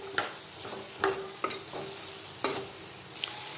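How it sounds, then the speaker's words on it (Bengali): Chickpeas with cumin and coriander powder being stirred in a frying pan, a soft steady sizzle broken by several distinct scrapes and taps of the spoon against the pan, close and fairly quiet. "এরপরে যে ছোলা দিয়ে দিলাম, ভালো করে নাড়তে হবে।"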